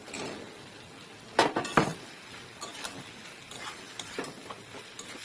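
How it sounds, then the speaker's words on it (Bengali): Mushrooms tipped into a pan of cooked-down spiced masala for mushroom dum biryani: a sharp clatter of metal on the pan, then lighter scraping stirs over a faint sizzle, no voices. "এখন মাশরুমগুলো দিয়ে দেবো"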